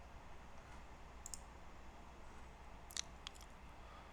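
A few sharp, faint mouse clicks, heard singly and then as a quick pair, over a steady low hum in a quiet room, with no talking.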